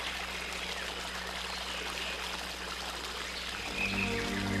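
A gentle stream of water flows steadily through a forest, a soft continuous trickle and wash with no talking, holding an even level and swelling slightly near the end.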